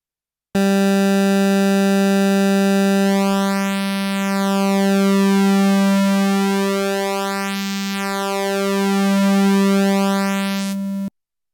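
A Behringer Pro-1 analog synthesizer holds one steady, buzzy low oscillator tone with oscillator 2 mixed in, a slow sweeping phasing shimmer rising and falling through its bright harmonics for about ten seconds before cutting off.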